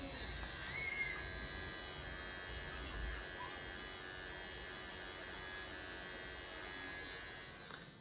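A VGR electric hair trimmer fitted with a Wahl blade runs with a constant high-pitched motor buzz and hum, close and steady throughout with no voices.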